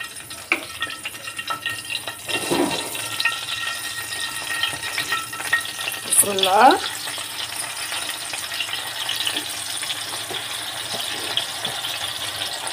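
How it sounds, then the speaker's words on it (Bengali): Hilsa fish frying in hot oil on a tawa, a soft continuous sizzle with faint spattering and a brief scrape midway, fairly quiet and steady throughout. "ইলিশ মাছ ভেজে নেব। এখন অয়েল হিট হয়ে গেছে তাওয়ায়।"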